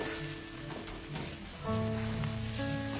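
Chili paste with anchovies, peanuts and sliced kaffir lime leaves frying in oil in a home kitchen, giving a steady close sizzle with some stirring scrapes and clatter, and no talk.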